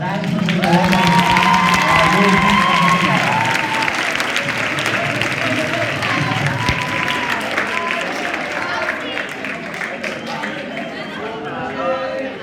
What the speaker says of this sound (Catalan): Un fort aplaudiment pels grans presentadors